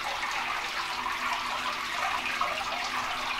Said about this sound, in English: If you hear these noise in the background, my fault. It's my big ass fish tank